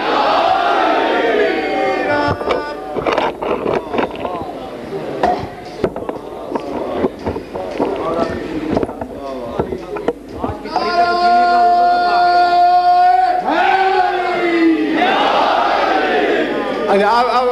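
A crowd at a live Shia majlis shouts back a loud unison religious slogan in response to a preacher's call, with sustained massed voices swelling after a stretch of rapid speech.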